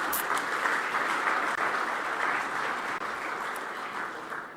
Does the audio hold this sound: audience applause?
yes